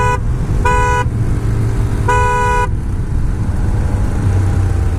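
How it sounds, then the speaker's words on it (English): Two loud, blaring horn blasts from a BMW motorcycle fitted with a bus-style horn, the first short and the second longer, sounding over a steady low idle rumble. "listen to this horn one more time. This is a bus horn."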